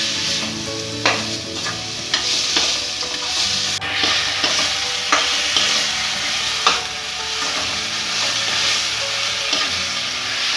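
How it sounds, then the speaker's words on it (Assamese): Local chicken pieces frying with potatoes in a hot pan, a loud steady sizzle broken by the scrape and clatter of stirring at intervals, with no voices. "এতিয়া মাংসখিনি দি দিছোঁ।"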